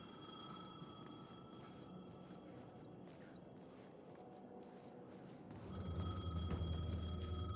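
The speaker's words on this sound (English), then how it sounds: "The payphone was ringing." A payphone rings in the Alan Wake 2 video game, a faint repeated bell tone over dark ambient sound that grows louder toward the end.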